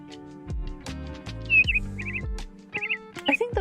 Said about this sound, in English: All right, so we'll go with birds.